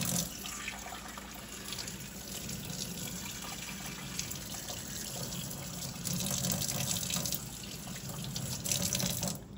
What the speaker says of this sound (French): c'est d'aller le passer sous l'eau, avec de l'eau tiède, et d'aller nettoyer tous les résidus de café qui se trouvent à l'intérieur